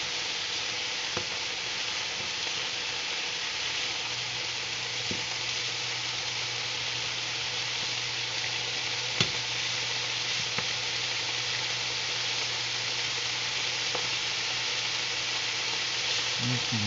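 Thick pork chops frying steadily in a pan, a continuous even sizzle with a low hum underneath and a few faint clicks and knocks, no talking.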